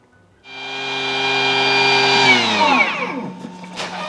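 A Tokit Omni Cook machine whirs up loudly while mixing honey sorbet, a steady high motor whine that winds down in pitch and stops after about three seconds, followed by faint clinks.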